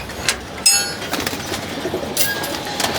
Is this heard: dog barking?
no